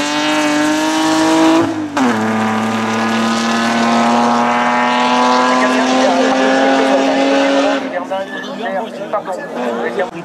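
A loud, high-revving Golf GTI 16S Group A race car engine screams steadily during a historic hill climb, its pitch dropping after a shift change, then fading with scattered background noise.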